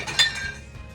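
A single short clink of a utensil against a bowl while mixing Cajun shrimp spinach dip ingredients, faint and close, with a brief ringing tail.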